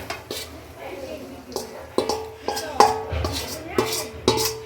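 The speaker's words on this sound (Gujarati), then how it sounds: "હવે તેને મિક્સ કરી દઈશું આવી રીતે મિક્સ કરી દઈશું" Mawa is stirred into a thick milk sugar syrup in a pan, with a spoon scraping and clinking against the metal in irregular strokes over a soft background hiss.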